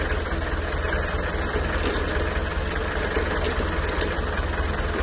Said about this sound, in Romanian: Tractorul merge la relantiu să tragă aer rece.